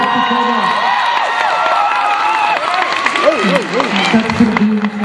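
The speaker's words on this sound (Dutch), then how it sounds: "Gaan we nog een luid applaus geven?" An audience at a youth arts awards show cheering and applauding loudly, a dense crowd roar with clapping under overlapping excited voices and music.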